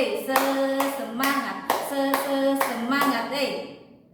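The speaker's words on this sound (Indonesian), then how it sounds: "kita tepuk semangat dulu. Tepuk semangat, semangat, semangat" A teacher chants a spirit cheer over rhythmic, evenly spaced claps in a classroom; the clapping is close and regular, with the chanting voice running throughout.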